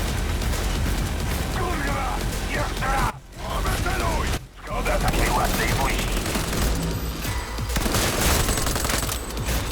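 Sustained gunfire in the video game Cyberpunk 2077 forms a dense, rapid crackle of shots. It briefly drops out twice, then keeps going loud throughout.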